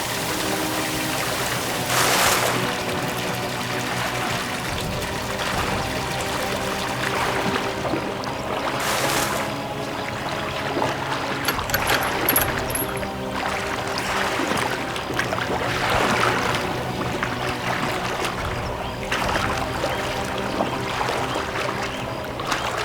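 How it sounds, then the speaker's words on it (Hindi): Water running steadily at moderate loudness, a continuous broadband rush with occasional splashy surges, heard without any voices. "पानी बंद करो।"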